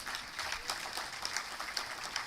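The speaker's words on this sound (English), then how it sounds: "Please, a better round of applause for" A round of applause at a high-level policy dialogue for transition states at the Nigerian Economic Summit, greeting the director; moderately quiet, steady clapping with a few sharper peaks, no talk.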